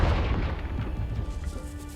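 A Confringo fire spell bursts in Hogwarts Legacy, one loud booming blast with a deep rumbling tail that fades over about two seconds.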